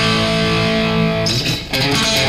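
A twangy, overdriven guitar picking a right-hand lick a little faster, with sustained bright tones giving way to a busier burst of quick picked notes near the end, played close with no speech.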